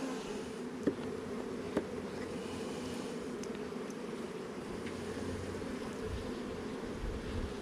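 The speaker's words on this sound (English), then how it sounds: "There's a lot of bees" Honeybees hum and buzz around an open hive during an inspection, a dense steady insect drone filling the air close by, with a couple of sharp brief knocks standing out early on.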